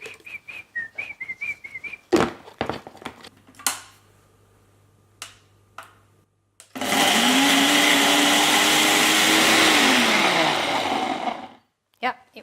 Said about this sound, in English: Break it in a blender.